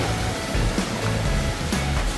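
Strong ocean waves breaking on a shore, a continuous loud wash of surf rolling in close by with no voices.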